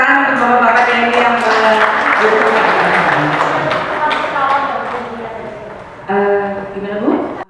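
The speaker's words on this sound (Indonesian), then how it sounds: "Kita berikan tepuk tangan untuk Bapak-bapak ini" Applause from an audience at a provincial coordination meeting rises and holds as a dense, steady clapping, fading slightly before a second short burst, with a voice speaking over it.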